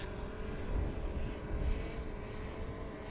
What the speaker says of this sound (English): we got a drone going over